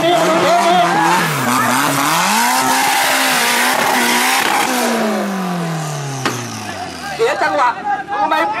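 A rally buggy engine roars and revs up during a race stage, then its pitch sweeps downward as it fades, followed by crowd chatter and shouting.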